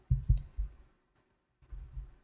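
Scissors chomping through thick fabric at a seam, a few close, low, crunchy cuts in two short clusters separated by a brief quiet pause with a small click.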